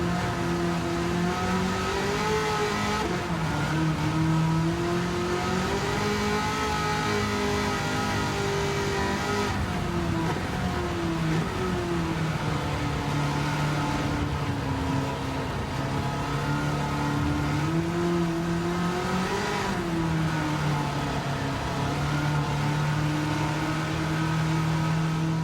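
A stock Chevrolet Corvette C1 engine in Gran Turismo 7 drones loudly and continuously, its pitch rising and falling in repeated revving sweeps with no voices over it.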